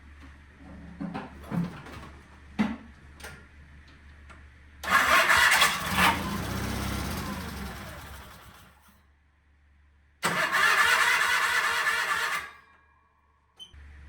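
A 1975 Sears SS16 garden tractor, hooked to a car for power, cranks over a few times after some clicks, catches and runs loudly, dies off, then starts again in a second loud burst before cutting out.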